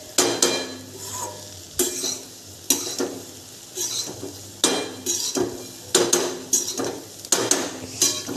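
A spoon scrapes and knocks around a pan in a steady rhythm of close, distinct strokes as tempered leftover roti is mixed, with faint sizzling underneath.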